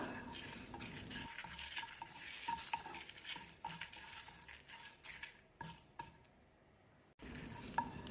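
Whole spices being dry-roasted without oil in a pan for mutton thanni kuzhambu, stirred with a utensil that scrapes and clinks against the metal, a light rustling rattle with soft taps, steady and close, briefly dropping out near the end.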